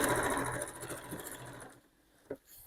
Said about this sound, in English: I'm just going to run the sewing machine backwards and forwards to secure that.